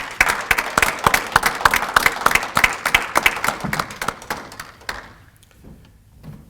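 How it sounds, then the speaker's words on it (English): A crowd claps steadily for several seconds, then the applause thins and dies away into quiet. "a round of applause for their service"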